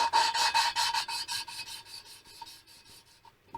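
Metal-on-metal rasping from lapping a valve against its seat in a 1971 Honda CB350 engine, a close, steady run of rapid back-and-forth strokes that gradually fade toward the end, with no talking.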